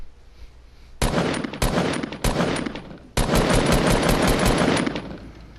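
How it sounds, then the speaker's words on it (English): A Fortnite assault rifle, the shared sound of its gray, green and blue variants, fires three short rapid bursts, then one long sustained stream of loud, close automatic fire. "listen closely to the sound of the assault rifle, because it has the same sound for its gray, green, and blue variant"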